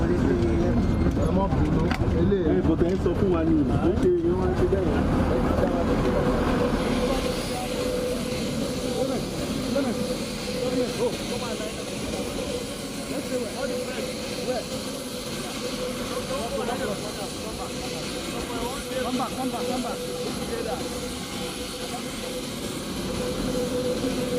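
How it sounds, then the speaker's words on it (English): A Nigerian Air Force C-130 airplane lands at Nnamdi Azikiwe International Airport in Abuja, its engine drone steady and broad, heard under a reporter's continuous talk. "That's Nigerian Air Force NAV C-130 airplane. It's the second airplane which has touched down from Egypt"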